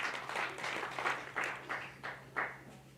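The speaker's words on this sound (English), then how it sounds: "Round of applause." An audience at a storytelling slam event applauds in a steady patter of many hands, moderately distant and fairly soft, with faint irregular swells throughout.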